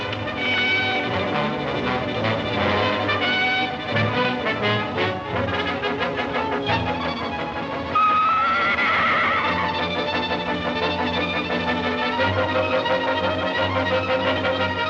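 Horses in a 1945 western film neigh and whinny repeatedly over a dense orchestral score, with galloping hoofbeats mixed in, loud and prominent throughout.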